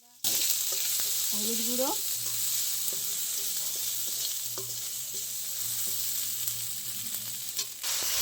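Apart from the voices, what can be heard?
ginger paste and turmeric frying in oil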